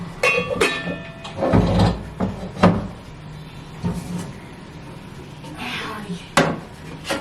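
Cooking pots clatter and knock as they are handled, several sharp metallic and wooden bumps scattered between quieter moments, with people talking nearby.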